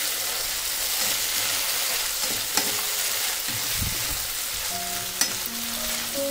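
A restaurant-style mixed chicken chowmein mixture with dark soy sauce and red chili sauce is stir-fried, a loud, dense sizzle with a couple of sharp utensil knocks against the pan and no talk.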